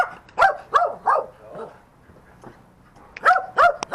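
A dog barks several sharp times close by, first a quick cluster and then another burst after a short pause.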